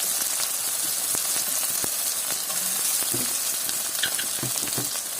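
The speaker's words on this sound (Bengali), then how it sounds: "এটাতে কিন্তু পেঁয়াজটা একদম ব্রাউন করে ভাজতে হবে" Onions fry in a pan on a gas stove, browning as the base for a Bengali coconut chicken, with a steady close sizzle and occasional crackles and stirring clicks.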